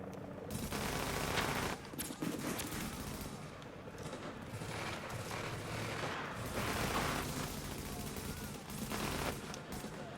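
Liberator high-end weapon firing in The Division video game, sustained loud bursts of automatic gunfire with dense overlapping shots and booming impacts throughout.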